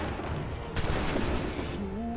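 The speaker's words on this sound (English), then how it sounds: "Prepare yourselves. Shoot." Musket volley gunfire in Assassin's Creed III sounds as a dense crackling burst of many shots fired together, with rumbling booms behind it and game voices and ambience mixed in.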